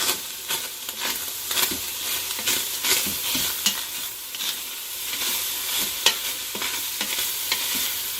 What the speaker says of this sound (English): And then we're just going to saute that with the meat until the onion starts to turn translucent.